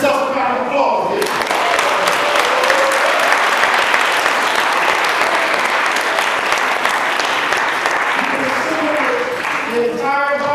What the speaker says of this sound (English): Give yourself a round of applause here.